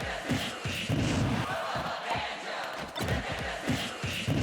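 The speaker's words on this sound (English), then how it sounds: "the crowd sounds really weird when they cheer Banjo's name" A video game crowd in Banjo-Kazooie cheers Banjo's name, a dense, loud roar of many voices with rhythmic shouted bursts and thuds, sounding oddly processed and continuous throughout.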